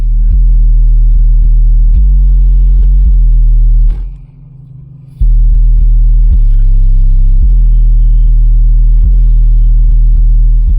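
Deep bass thumping from four Soway 12-inch subwoofers in a Dodge Dakota, loud sustained low tones in pulsing blocks with a brief drop-out midway, no voices.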